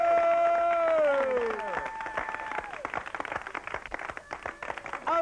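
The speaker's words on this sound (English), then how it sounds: "Give her a nice round of applause." A studio audience on a television talk show breaks into a round of applause, dense clapping that swells after a brief musical tone and carries on steadily.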